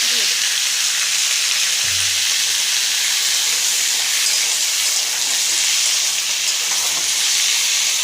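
Papaya, potato and peas fry in hot oil with salt and turmeric, giving a steady, loud broadband sizzle that runs unbroken throughout, with a faint low knock near the start.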